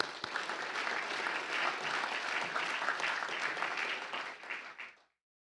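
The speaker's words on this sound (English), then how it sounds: "Will you also give them a quick round of applause?" Applause from lawmakers and guests fills a state House legislative chamber in Alabama, a steady wash of many hands clapping for about five seconds before stopping abruptly.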